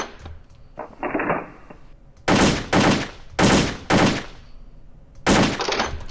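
AK-47 fire at a shooting range in the video game World of Guns: several sharp bursts of automatic rifle fire, loud and close, separated by short pauses, with mechanical clicks of handling between them.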